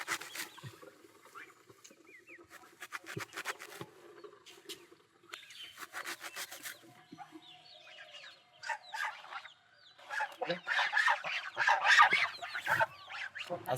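Farm geese call on a rural smallholding, with scattered honks and cackles that are fairly quiet at first and build into a louder, busier cluster toward the end.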